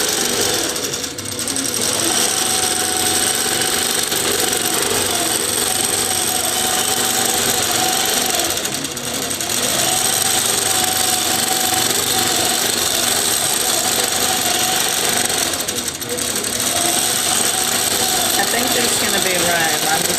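A 2013 Millie longarm quilting machine running under Quilt Path control stitches an allover feather pattern, giving a steady close mechanical whir and rapid needle chatter throughout with a few brief dips.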